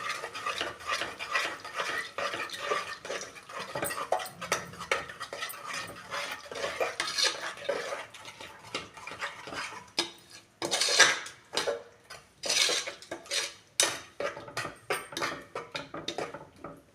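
Curd being stirred into vegetable pulav in a metal pot with a spoon, rhythmic scraping and clinking strokes that come in repeated bursts, close and clear with short pauses between stirs.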